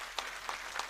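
A crowd at a political rally in Nimgaon Ketki applauds to welcome a guest, a faint, distant wash of clapping with a few sharper individual claps standing out.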